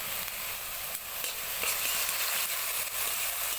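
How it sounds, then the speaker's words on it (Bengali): Potatoes for aloo bhaji fry in hot oil with a loud, continuous close-up sizzle and crackle, broken by a few light stirring clicks. "এখন আলু ভাজি করে নিচ্ছি"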